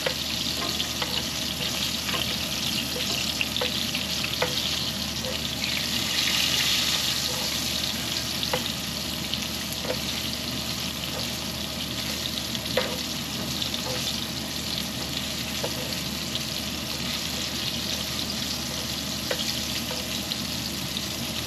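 Steady crackling sizzle of smelt frying in hot oil, dense and continuous with faint pops, no voices.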